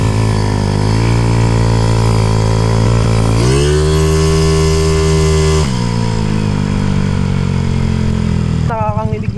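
A Yamaha Fino scooter bored out to 232cc revs hard on a test ride, its engine buzzing loudly in a climbing, then sustained whine with gear-like pitch steps, dropping and rising again near the end.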